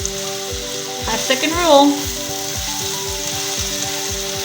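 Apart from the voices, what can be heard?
mushrooms sautéing and sizzling in a pan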